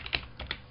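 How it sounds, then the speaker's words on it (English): A few quick keystrokes on a computer keyboard, soft close clicks in a brief burst with no talk. "I'm typing them now."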